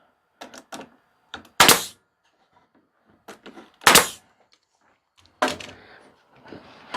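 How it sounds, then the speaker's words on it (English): Staple gun fired into the outside boards of a simple wooden planter box, three sharp loud snaps spaced apart, with light tapping and handling noises between them. "Staple my 2 outside ones."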